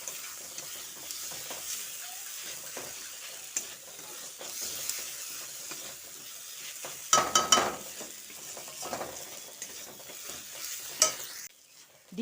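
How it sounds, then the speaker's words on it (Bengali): Egg bhujia being stirred with onion and tomato in a pan over a low gas flame, a soft continuous sizzle with scraping strokes of a spatula and a couple of sharper clinks against the pan. "ডিমের ভুজিয়াটা তৈরি হয়ে গেলে এবার পেঁয়াজ ও টমেটোর সঙ্গে ভালো করে মিশিয়ে নিচ্ছি"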